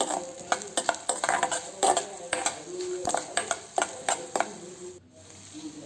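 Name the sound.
urad dal and coriander seeds being roasted in a pan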